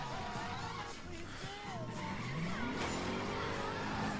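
A car engine revving with tires skidding and squealing in the video game Driver San Francisco, a steady engine drone with rising pitch sweeps as the car slides, moderately loud throughout.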